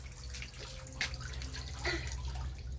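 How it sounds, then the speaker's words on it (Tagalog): Water runs from a tap through a sprayer nozzle used as a makeshift shower, a faint steady trickle with a few brief splashy spurts against a low background hum. "Nozzle sa sprayer ang iyang shower, oh."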